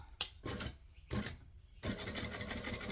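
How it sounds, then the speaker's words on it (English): A sewing machine stitching fabric for a bag with handles: short bursts of rapid mechanical whirring separated by brief pauses, then a longer steady run, close and clear with no talking. "So we're going to stitch down and across the bottom and then up the side."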